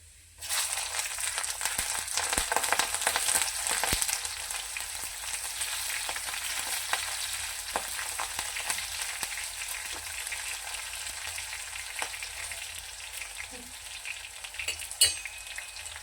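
Garlic and green chillies frying in a pan, a steady close sizzle with scattered crackles and pops starting abruptly and running throughout, with a single sharp knock near the end.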